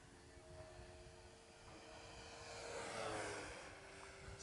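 FlightlineRC Spitfire Mk. IX 1600mm radio-controlled model plane flying overhead, a steady electric motor and propeller drone that swells slightly as it passes and fades again, heard from a distance outdoors.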